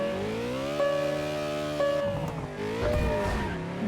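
Koenigsegg engine in the Test Drive Unlimited racing game, a steady high-pitched drone climbing through the gears with brief dips at each shift, loud and continuous with no talk.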